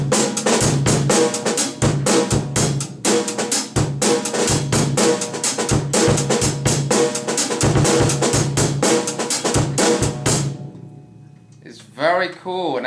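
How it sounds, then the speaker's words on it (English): A fuller drum set groove with added drums and extra bass drum hits in a music lesson, dense and loud for about ten seconds, then fading into quieter sound with brief voice-like murmurs at the end. "I add this drum and maybe a little more bass drum and it sounds like this."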